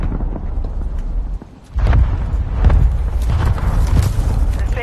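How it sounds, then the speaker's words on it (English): Mortar strike explosions in the video game Warzone: a loud, steady, low booming rumble that keeps rolling, drops out for a moment, then comes back heavier, with dense thuds layered on top. "Friendly mortar strike on the way."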